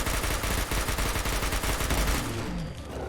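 Fully automatic Hub Special rifle from a Fallout 4 mod firing in a sustained rapid burst, dense loud shots running together before trailing off into a brief echoing tail.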